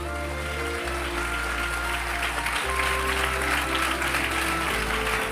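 A congregation applauds during a Telugu Christian sermon, producing a sustained, even wash of clapping, with a low tonal hum from the hall's sound system running underneath.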